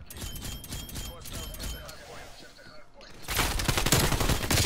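Rapid bursts of gunfire from a Call of Duty match rattle throughout, dense and close, building to a louder, sustained volley near the end, with a voice speaking briefly underneath.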